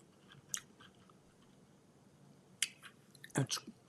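Quiet, close crunching bites at irregular intervals, with a couple of louder crisp chews toward the end over a soft background hiss.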